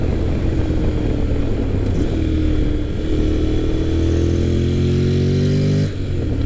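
A Honda X-ADV 750 with a DCT automatic gearbox hums along at riding speed under steady wind noise. The engine note climbs smoothly, then drops briefly at a gear change near the end.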